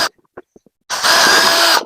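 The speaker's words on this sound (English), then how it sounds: "I'm going to drill a hole" A few faint clicks and taps, then a power drill whirs loudly and steadily for about a second at close range, drilling into the plastic wheel of a Little Tikes Cozy Coupe.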